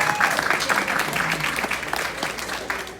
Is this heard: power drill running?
no